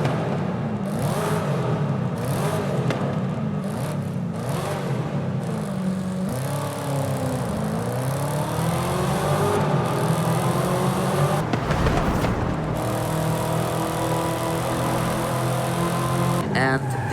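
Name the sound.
Chevy car engine revving in video game Forza Horizon 5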